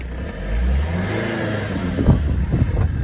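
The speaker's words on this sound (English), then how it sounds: "give it some revs. It sounds a bit like a tractor, but you know, it's a diesel." An Alpina D3 with its diesel engine is revved up from a steady idle into a rising, tractor-like growl, with loud, rough pulses close to the microphone toward the end.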